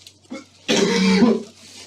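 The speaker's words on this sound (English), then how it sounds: "One more big cough, as big as you can go." A patient gives one big, drawn-out cough during a medical examination, lasting most of a second, loud and raspy, after a small breath sound in a quiet room.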